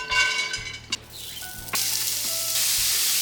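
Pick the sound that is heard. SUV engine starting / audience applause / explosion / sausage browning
sausage browning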